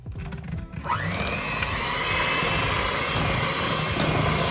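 An electric mixer whirs steadily through rich Christmas plum cake batter with egg and flour, starting with a few rattling knocks before settling into a loud, continuous drone close by.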